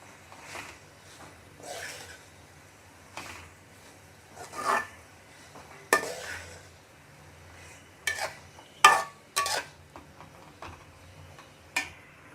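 Chicken filling with green onion being stirred in a pan: intermittent scraping and clinking strokes of a utensil, some sharper knocks toward the middle, close and fairly quiet with no voices.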